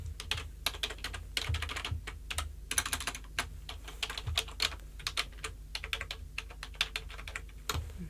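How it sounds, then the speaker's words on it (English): Close computer keyboard typing, a dense patter of quick key clicks in uneven bursts with brief pauses, heard alone in a quiet room during a nurse's cranial nerve exam. "Let me just type a note"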